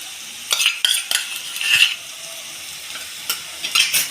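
Garam masala and ginger garlic paste frying in a pan, with several short bursts of stirring and scraping sizzle, a metal spoon clinking against the pan, close and fairly loud.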